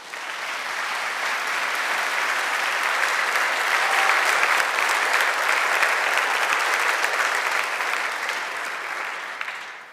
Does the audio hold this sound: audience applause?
yes